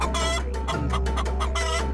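A cartoon rooster clucks in a rapid, rhythmic series of loud, close squawking calls, bursts repeating over a steady low hum, with no speech.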